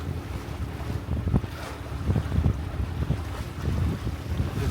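Catalina 22 sailboat moving across a lake in a steady breeze, with continuous wind buffeting and water washing against the hull, low rumbling gusts rising and falling throughout, no talking.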